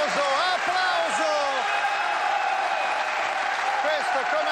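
Studio audience applause on a 1993 Canale 5 joke show, a steady dense wash of clapping that fills the whole stretch while someone speaks over it near the start and again at the end.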